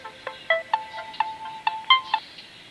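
A mobile phone rings with an incoming call on a fishing trip, a short melodic ringtone of bright repeated electronic notes in a quick, uneven pattern, fairly close and heard alone without talk.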